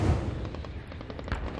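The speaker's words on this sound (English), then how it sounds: "Gunfire and explosions outside the capital." Bursts of gunfire during counter-terrorism training outside the capital of Tajikistan, a quick ragged string of distant shots over a brief stretch with no voices.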